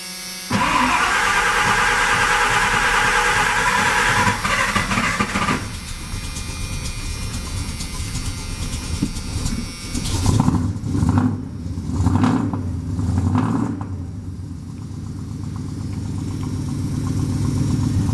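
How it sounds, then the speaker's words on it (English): A 1986 Ford F250 truck engine cranks and starts with a loud roar, then settles into a steady rumbling idle with some uneven surges, close and loud throughout, no talking. "Hop up in here and fire her up so you can hear what she sounds like."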